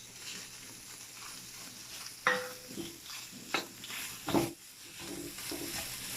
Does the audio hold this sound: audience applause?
no